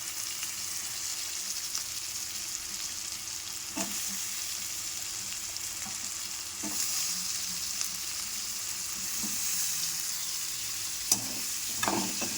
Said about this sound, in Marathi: बटाटे फ्राय होऊ देते तेलात भाजू देते